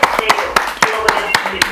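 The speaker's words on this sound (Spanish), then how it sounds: "Te voy a dar un aplauso" Hand clapping during a Catholic rosary broadcast, a handful of distinct, sharp claps in a loose uneven rhythm with soft background tones between them, near and fairly loud.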